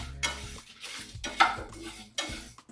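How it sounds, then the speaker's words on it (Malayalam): Two garlic cloves and four small shallots fry with cumin in a pan, a soft sizzle broken by slow, rhythmic stirring strokes, quiet and close. "2 അല്ലി വെളുത്തുള്ളി ഇട്ട് കൊടുത്ത്, ഒരു 4 കഷ്ണം ചെറിയ ഉള്ളി ഇട്ട് കൊടുത്ത് ഇതൊന്ന് വറുത്തെടുക്കാം."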